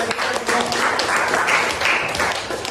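Classroom applause from a group of students, a steady wash of clapping for a few seconds at moderate loudness.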